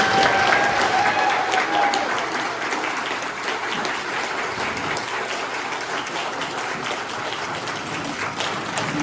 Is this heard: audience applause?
yes